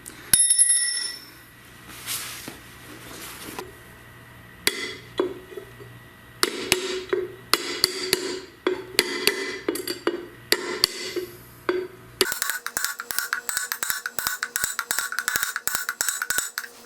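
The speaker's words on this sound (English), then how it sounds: "I could press these in, but they go in pretty easy with a hammer" A hammer drives a bearing into a GM 9.25 front differential for a 3/4 and 1 ton Chevy or GMC truck, with sharp metallic ringing strikes. Scattered taps come first, then a fast, steady run of close, bright blows.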